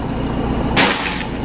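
A single shot from a PCP Escobar air rifle, a sharp sudden crack heard once midway through, followed by a brief ringing tail over steady background noise.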